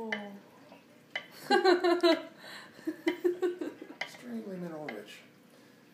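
Thick Dead Sea salt mixture from Ein Bokek being stirred in a container, giving scattered scraping clinks beneath a person talking and laughing nearby.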